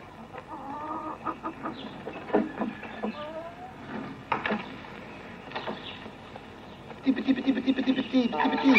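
Hens cluck in scattered bursts, with a quicker run of clucking near the end and voices mixed in.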